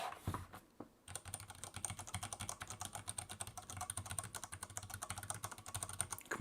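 Fingers type on a keyboard with mechanical switches, producing rapid, continuous clacking keystrokes at close range after a brief pause, steady and fairly crisp throughout with no voices.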